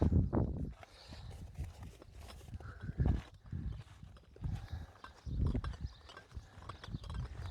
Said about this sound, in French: Je vous laisse profiter de l'âne.